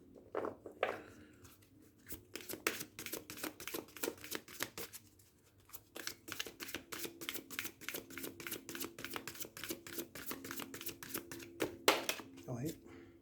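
Rapid riffling of a deck of cards being shuffled, a dense run of crisp flutters with a short pause before a second longer riffle, fairly close.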